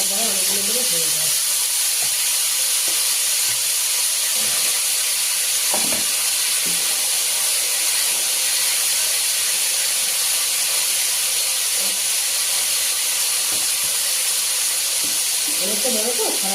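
Food frying in a pan with a steady, broad hiss and sizzle running the whole time, plus occasional faint stirring clinks and brief low voices.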